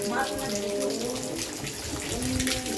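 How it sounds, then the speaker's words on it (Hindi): Heavy rain pours down and water gushes in a steady, dense hiss close by, with a voice talking over it. "बारिश हो रही है"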